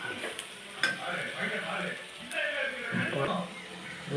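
Chilli powder, chicken masala and pepper powder are being stirred into Chettinad chicken in a pan, with a soft sizzle and a spoon scraping and clinking against the metal beneath a speaking voice.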